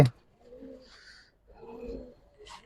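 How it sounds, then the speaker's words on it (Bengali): Giribaz racing pigeons, including a female, coo in a few low, soft rolling bursts close by, with brief pauses between calls and no talking. "একটা মাদি কবুতর"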